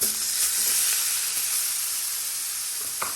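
Food tipped onto a hot griddle while cooking dirty fried rice gives off a loud, steady sizzling hiss that fills the whole moment, with no talking.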